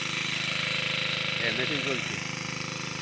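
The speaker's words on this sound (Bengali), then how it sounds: "দেখুন পুকুরে মেশিন বসানো আছে, মেশিন চলছে, এখানে মেশিন চলছে" A water pump machine set up at a farm pond runs close by with a steady, rhythmic chugging drone, and a voice is briefly heard over it.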